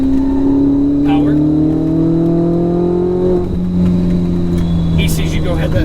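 A Ferrari 488 GTB or C8 Z06 sports car engine accelerates hard on a race track, its loud, close, rising whine climbing through the revs, briefly dropping at a shift and then climbing again, with wind noise around it.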